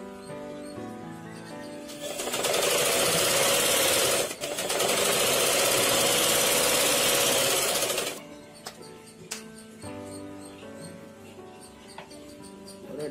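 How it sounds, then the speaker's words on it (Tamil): A sewing machine stitches a seam along folded cloth in a loud, continuous mechanical run of about six seconds, broken by one brief hitch. Quieter clicks and fabric handling follow, with faint birdsong in the background. "இதே மாதிரி இந்த பக்கமும் தைக்கிறோம்."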